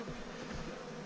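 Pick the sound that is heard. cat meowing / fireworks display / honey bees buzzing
honey bees buzzing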